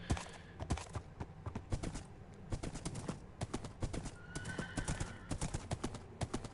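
A horse in the Minecraft PS4 Edition video game trots with steady, close clip-clop hoofbeats that repeat throughout, with an occasional faint tonal squeal and no talking.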